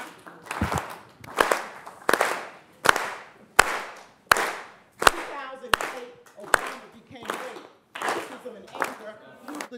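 Repeated bursts of clapping from a group, about a dozen sharp rhythmic claps spaced roughly a second apart, loud and close, with no talking.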